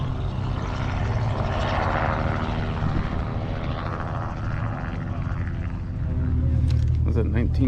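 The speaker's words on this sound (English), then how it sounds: "Was a 1940 Cessna C-165. Looks like a 7-cylinder." A 1940 Cessna C-165 propeller airplane at a fly-in, with a continuous loud engine drone and propeller roar that swells toward the end. People talk nearby.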